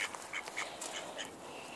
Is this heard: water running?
no